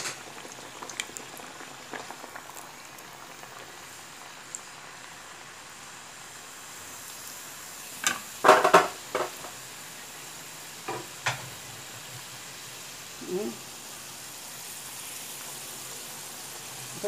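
Dough frying in hot oil gives a steady, even bubbling sizzle throughout, with a few brief clinks and knocks of utensils partway through, heard close and without talk.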